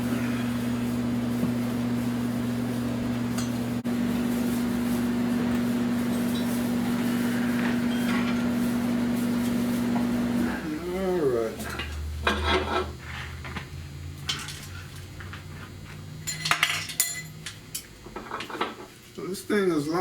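Metal clanks, scrapes and knocks as the crankshaft is pulled out of a torn-down Buick 455 engine from a 1970 Wildcat convertible, irregular hits following a steady hum, close by in a workshop.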